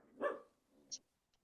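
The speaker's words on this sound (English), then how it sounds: "No barking." A dog gives one short bark followed by a faint yip, fairly close and brief, with no speech.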